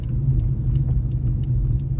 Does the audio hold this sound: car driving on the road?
yes